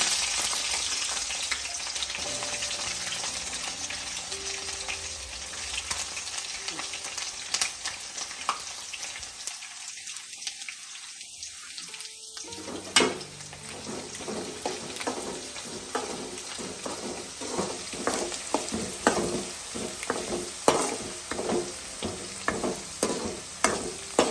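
Halved garlic cloves and a chunk of ginger fry in hot oil for Kerala-style lemon pickle, a steady bright sizzle with stirring scrapes and crackles that briefly drops out midway, then resumes with rhythmic spoon strokes against the pan.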